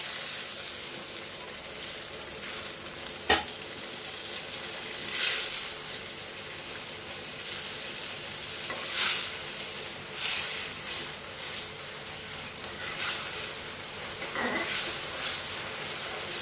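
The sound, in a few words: water added to frying spice paste, sizzling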